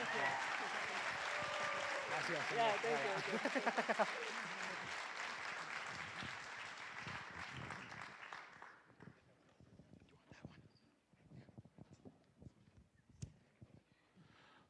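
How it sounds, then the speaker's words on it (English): Audience clapping at a Skagit farming community event: dense, sustained applause for about eight seconds that then thins into scattered claps and quiet room noise, with a brief spoken thanks. "Another round of applause"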